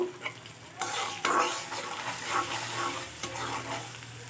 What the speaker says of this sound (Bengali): এখন দিয়ে দেব হলুদের গুঁড়া, মরিচের গুঁড়া, ধনিয়া গুঁড়া, জিরা গুঁড়া, লবণ দিয়ে একটু মশলাটা কষিয়ে নেব